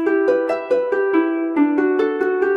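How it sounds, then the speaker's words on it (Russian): A harp plucks a quick repeating arpeggio an octave higher than a hammered dulcimer line, with clear ringing notes in an even rhythm, close and alone. "играем на октаву выше, на арфе."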